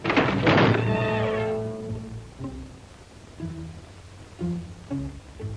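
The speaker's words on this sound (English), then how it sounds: "The wind slammed a shutter against a window." A wooden shutter slams against a window in the wind, a heavy bang that rings into a creaking groan, followed by scattered softer knocks and rattles.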